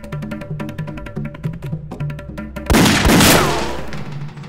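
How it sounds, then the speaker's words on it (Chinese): In a wartime drama scene, music with steady plucked notes plays, then a loud burst of gunfire cracks out and rings into a fading rumble, with no speech. "枪声！ 废话，我也知道是枪声，哪儿来的？"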